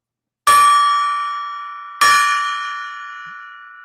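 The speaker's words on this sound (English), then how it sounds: "let's ring the gong" A golden gong struck twice about a second and a half apart, each hit a bright, ringing metallic tone with a sharp attack and a long shimmering decay that overlaps the next strike.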